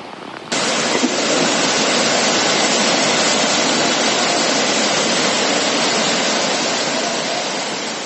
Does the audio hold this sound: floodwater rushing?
yes